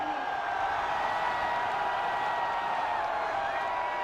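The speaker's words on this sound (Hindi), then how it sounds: "तालियों की गड़गड़ाहट पूरे देश तक जानी चाहिए।" A large crowd at the Noida International Airport foundation-stone ceremony in Uttar Pradesh keeps up a steady, distant roar of applause and cheering, even and unbroken for the whole stretch.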